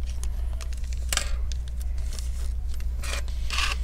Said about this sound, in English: Let's go ahead and cut the battery wrapper.